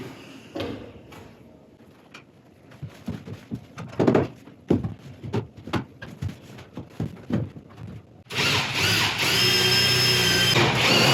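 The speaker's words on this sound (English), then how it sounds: "to drill a hole in the roof." A power drill bores a hole through a metal roof, with several short bursts and thunks, then a sustained loud high-pitched grinding whine as the bit cuts steadily through the sheet metal.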